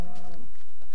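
Cattle mooing in the video game Minecraft, a single drawn-out low moo at the start that fades out within a second, followed by faint background sounds.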